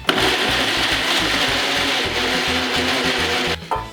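Nem filling with carrot being mixed with a wooden spoon, a loud, rough rhythmic scraping and rubbing, repeated steadily before stopping abruptly near the end, no voices.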